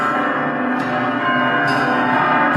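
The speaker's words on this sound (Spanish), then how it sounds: "las campanas seguían repicando, algunas ya cascadas, con un sonar como hueco" Church bells ring continuously, with dense overlapping clangs that form a full, resonant wash. It stays loud and steady throughout, with no voices.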